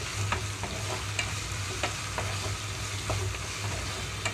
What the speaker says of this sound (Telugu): ఇవి వేగేటప్పుడే ఒక స్పూన్ వరకు ధనియాలు కూడా ఇందులోకి వేస్తున్నాను